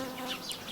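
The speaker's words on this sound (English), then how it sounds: "a striped wasp flew straight into the silken trap" A striped wasp buzzes steadily in a continuous, fairly close drone, with no other sounds.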